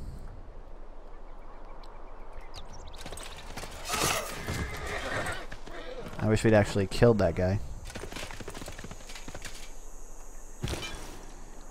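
Horses whinny and hooves clip-clop amid battle noise in the strategy game Civilization 6, with a loud neighing burst in the middle and someone talking over the game sounds.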